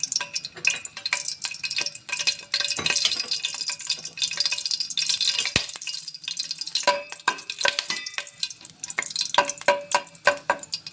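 Cinnamon sticks hit hot oil in a pan, giving a steady close sizzle and crackle broken by clicks and scrapes of stirring, with no talking.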